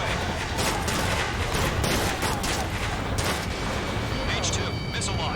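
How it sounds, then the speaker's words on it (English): Bombs detonate in the jet combat game Ace Combat 7 as a dense, continuous roar of blasts and rumbling, loud throughout, with radio chatter from pilots over it. "Mage 2, bombs away."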